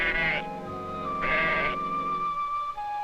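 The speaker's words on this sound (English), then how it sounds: "The bleat of the goat will attract the leopard from a distance." A live goat tethered as leopard bait gives two loud, close bleats, each about half a second, separated by a pause with a steady low background hum.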